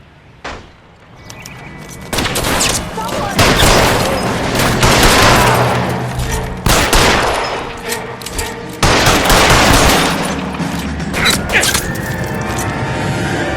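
Gunfire rattles through a gunfight at an electroplating plant in L.A. Noire, with repeated bursts and sharp cracks that come close and loud in uneven clusters across the whole stretch, with almost no pause between volleys.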